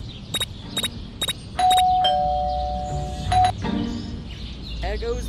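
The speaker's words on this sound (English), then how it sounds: "There goes that stupid bell again." A doorbell in the Scary Teacher video game chimes in a quick series of electronic rings, followed by a long sustained tone. Chirpy game effects and a character's voice follow.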